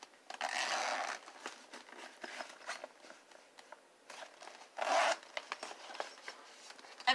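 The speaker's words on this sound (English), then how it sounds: "zippers." Zippers on a craft organizer with flaps are pulled open and shut in several quick rasping runs, close and fairly soft, with faint rustling between them and no talking.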